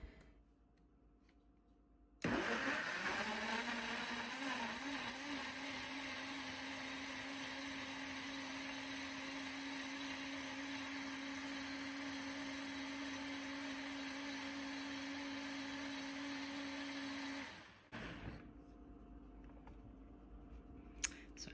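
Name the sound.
blender blending tomatoes, garlic, salt and basil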